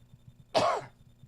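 A single short, harsh cough with throat clearing bursts out over a faint low background hum, lasting under half a second.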